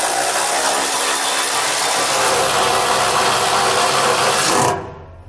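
A ratchet with a 10mm socket driving bolts on a Curt underbed gooseneck trailer hitch, making a loud continuous buzzing whir up close that runs steadily for nearly five seconds and then cuts off abruptly.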